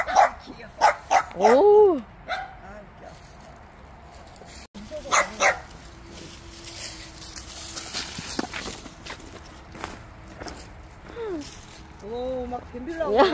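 A small dog barks and yips in short bursts, close by, with whimpers and footsteps in between, while people talk and react over it.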